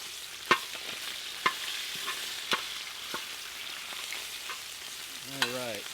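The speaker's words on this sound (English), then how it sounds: "So the next of this recipe really is to brown the sausage in here" Sausage browns on a FIREDISC cooker, with a faint, steady sizzle under occasional sharp metal scrapes and taps from stirring, spaced a second or so apart.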